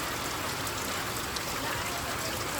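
Steady hiss of rain driven by wind over a farm field in a Gujarati village, a dense unbroken wash of noise with no distinct drops standing out.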